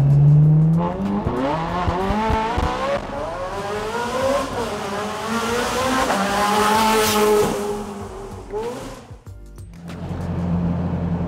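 A Ferrari F430 Scuderia with a Tubi Style exhaust accelerates hard nearby, its exhaust roaring and rising through the gears with a brief drop between shifts, then settling to an idle.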